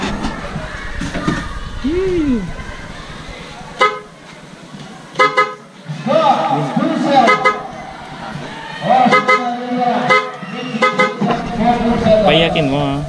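Several short and longer blasts from a freshly installed horn on a Honda Click scooter ring out close and loud, mixed with people talking nearby throughout.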